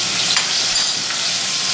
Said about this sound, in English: I make sure that the grease is frying both sides of the green bean.